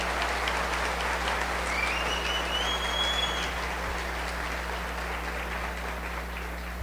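Steady applause from a Catholic charismatic retreat audience in Cascavel, thanking God's grace, a continuous dense clapping over a constant low electrical hum, with a faint whistle rising briefly.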